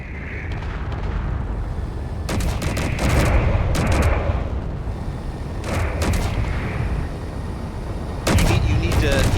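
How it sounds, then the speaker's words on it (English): Artillery fire in Space Engineers during a co-op battle: repeated heavy booming bursts in clusters over a dense rumbling battle din, with a voice talking over it. "Artillery."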